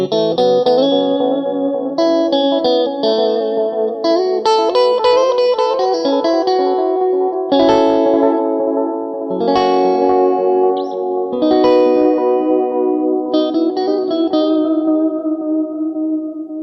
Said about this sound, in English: you hear the modulation come out a bit more on those chords because it rings out